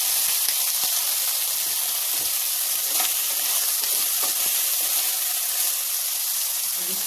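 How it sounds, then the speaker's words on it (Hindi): Potatoes and cauliflower fry in a hot pan with a steady, loud sizzle and hiss, broken by a few light stirring scrapes throughout. "और अब ये आलू गोभी को फ्राई कर देंगे"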